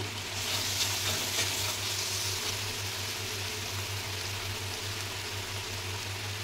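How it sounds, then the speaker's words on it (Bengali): Ground spice paste of ginger and turmeric with a little sugar fries in oil for a bhetki fish kalia, giving a soft, even, continuous sizzle close by with no talk. "মশলা ভালো করে কষানো হয়ে গেছে"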